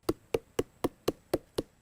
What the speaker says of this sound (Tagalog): Para mas mabilis na lumabas ang katas, pinupukpok niya ang parteng ito ng puno.